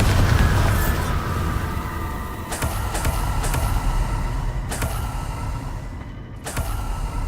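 Booming spell blasts in the Hogwarts Legacy video game, several sharp broadband bursts cutting through a continuous rumbling combat soundscape, loud and close.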